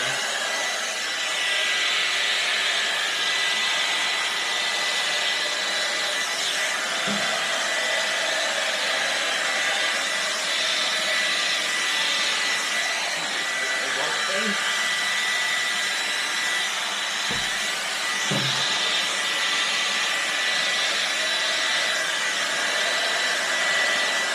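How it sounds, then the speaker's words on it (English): A hair dryer blows continuously with a loud, steady whoosh over fluid-art paint, close up, with a few faint bumps and knocks beneath it. "I grab my hairdryer"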